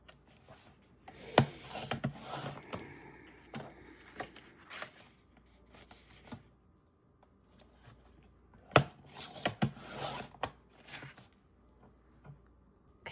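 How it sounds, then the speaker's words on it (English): Paper strips being cut for collage and junk-journal ephemera, heard up close as quiet, scattered snips and crisp paper rustles in irregular bursts separated by near-silent pauses. "I do not like to, so I'm cutting my strips"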